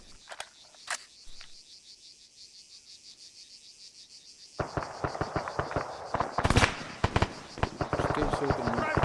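Rapid rifle gunfire in an Arma 3 Antistasi mod firefight on Altis, cracking shots in dense bursts over an insect-like background hum, growing louder and busier toward the end with a voice speaking briefly.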